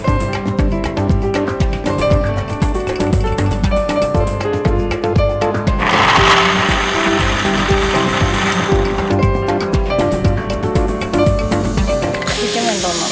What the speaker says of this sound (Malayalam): നമുക്ക് ബ്രെഡ് പൊടിക്കാം.